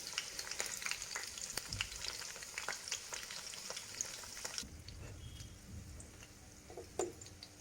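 Small fish pakora sizzles slowly in oil over low heat, a steady crackling fry with scattered pops, close and continuous, softening midway with a few light stirring clicks and no talk.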